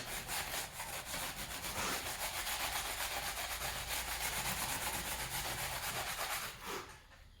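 Sandpaper scrubs gunk off a part from a 1999 Ford Mustang Cobra, a continuous loud rasping rub in rapid back-and-forth strokes that runs steadily for several seconds before stopping abruptly near the end.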